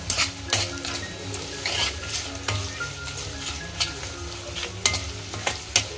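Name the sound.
onion frying in oil, stirred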